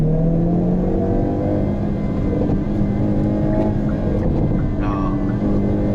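Hyundai Kona N engine revving hard in N Grin Shift mode, a steady loud drone of exhaust rising through the rev range with faint crackles near the end, no one speaking.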